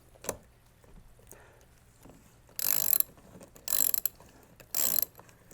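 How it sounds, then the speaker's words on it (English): Ratcheting clicks from a 14mm socket wrench loosening the prop nut on a Garmin Force trolling motor, three short bursts of rapid close clicking separated by pauses, with faint handling noise between. "To remove our prop nut, we're going to turn counterclockwise."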